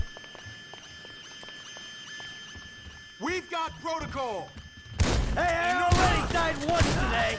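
Gunfire in the GTA 5 video game: a few sharp shots and bursts, with voices talking over the action and a busy, louder stretch of game noise toward the end.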